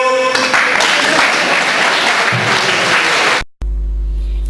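Audience applause at a Hindi poetry recital: dense, loud clapping from a crowd that sustains for several seconds before cutting off abruptly.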